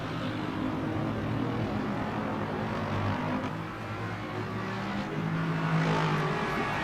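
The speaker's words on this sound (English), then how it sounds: "Cars are still too loud." GT3 race car engines drone steadily in a racing video game at the Algarve circuit in Portugal, a dense, continuous roar of several cars with rising and falling engine pitch and no talk.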